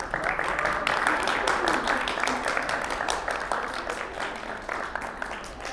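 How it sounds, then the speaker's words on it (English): An audience applauds Saad Haddad at a Harlem School of the Arts lecture, a steady wash of clapping that runs the whole time, moderately loud and fading slightly toward the end. "Let's give him a round of applause."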